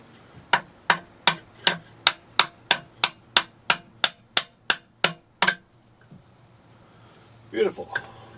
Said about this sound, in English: These little rings we're gonna get just tapped in to reinforce this piece